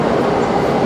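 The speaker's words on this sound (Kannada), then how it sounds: "12:21 ಎಕ್ಸಾಕ್ಟ್ ಆಗಿ ಹೊರಡ್ತಿದೆ ಟ್ರೈನು." Taiwan high speed bullet train departing, a steady rumbling rail roar heard close by, dense and continuous without distinct clicks.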